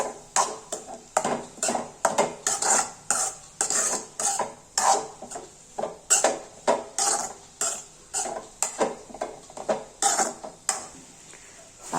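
Utensil scraping and clinking against a pot as bitter gourd kootu with coconut masala is stirred, a steady series of short, close, uneven strokes with no talking.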